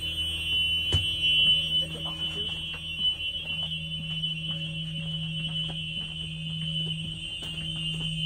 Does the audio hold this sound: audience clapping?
no